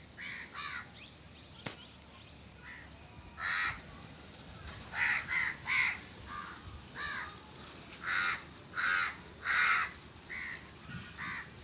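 Crows feeding on scattered rice caw repeatedly nearby, a series of harsh calls in short bursts and pairs, with quiet background between them.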